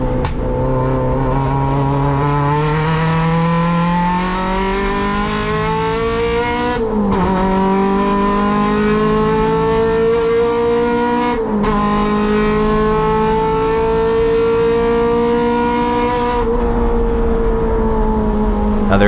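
A loud touring car engine roars steadily in a USTCC race, its pitch climbing through each gear and dropping at three distinct shifts, close and continuous throughout.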